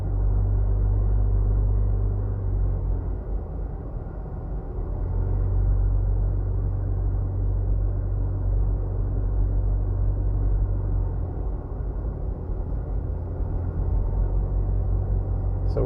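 Cars pass through an intersection onto Washington Boulevard from Spanish Town Road in Jamaica, making a continuous low rumble of traffic at moderate distance that swells and eases slightly over time.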